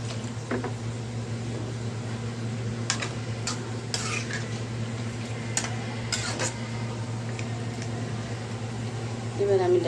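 Jackfruit seed and dried fish curry being stirred in a pan on the stove, with scattered scraping and clinking of a spoon against the pan over a steady hum, and a brief sizzle near the end.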